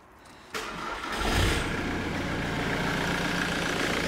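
A diesel car with a new stainless steel exhaust cranks briefly and fires up, then settles into a steady, close, rumbling idle.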